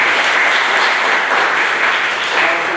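Steady audience applause at a Veterans Day celebration in East Orange, dense and even clapping throughout, loud and close with no talk over it.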